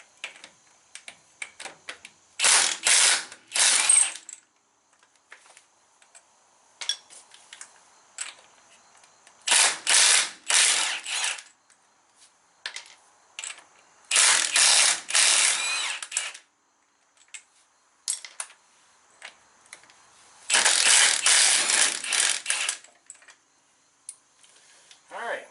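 A socket ratchet with a thin-wall spark plug socket works bolts on a 1968 Chevelle wheel, giving four loud bursts of rapid clicking ratcheting separated by quieter pauses with scattered small clicks.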